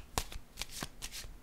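Tarot cards being shuffled and handled, several quick soft riffling bursts close up at low volume, with no speech over them.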